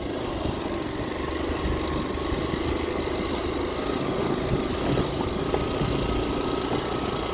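A big motorcycle engine runs in a steady, continuous drone with an even mid-low rumble, sustained without a break.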